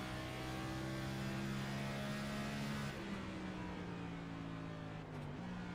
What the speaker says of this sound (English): Jurgen's playing with that throttle, trying to get this thing figured out